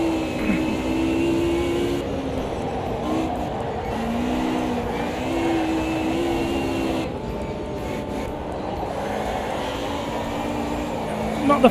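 A race car engine in a sim racing game drones steadily throughout, its pitch shifting with gear changes and speed, with a commentator talking over it.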